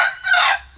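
Bangkok-breed free-range village chickens crowing and clucking in a home-scale backyard flock, a short burst of close, loud calls with no one speaking.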